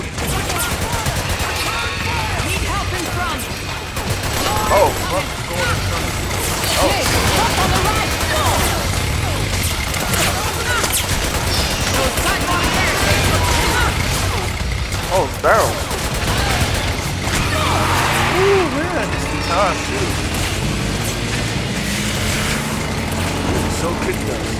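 Video game gunfire from Metal Gear Solid 4: Guns of the Patriots, scattered bursts mixed with vehicle engine noise and mechanical clatter during a driving sequence, with shouting voices talking over much of it.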